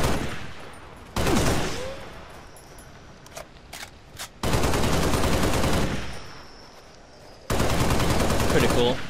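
Gunfire in Halo Reach played with a mod tool, loud sustained bursts of rapid automatic fire in three long volleys, with scattered single shots between them.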